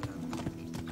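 Horse hooves clip-clop in a steady trotting rhythm in the medieval video game Kingdom Come: Deliverance. The hoofbeats are close and evenly spaced over a low ambient drone.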